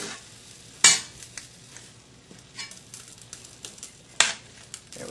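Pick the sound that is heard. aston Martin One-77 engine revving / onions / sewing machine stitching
onions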